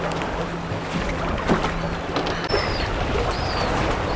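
A boat with a new engine runs on open water, a steady engine drone under wind and water wash, heard up close throughout.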